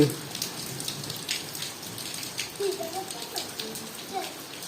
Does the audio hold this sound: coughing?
no